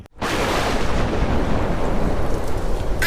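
A heavy, sustained rumble of thunder bursts in after a brief silence and rolls on loudly, with a noisy rain-like wash beneath it and no speech.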